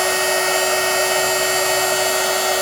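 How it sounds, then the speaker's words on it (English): A heat tool blowing hot air to melt embossing powder on a papercraft card, a loud, close, steady whirring hum with a constant tonal whine, running without pause. "So my heat tool is going on now."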